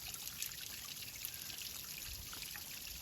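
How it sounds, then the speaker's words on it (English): Water trickles and drips beneath ice beside a snowy trail, a faint, steady watery patter with no voices. "drips going underneath the ice"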